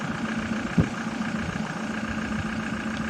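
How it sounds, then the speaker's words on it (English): A toy truck's built-in diesel engine sound effect idles in a steady, continuous rumble with a brief knock near the start, heard alone at moderate level. "it has a real engine sound to it. It actually sounds like a real diesel."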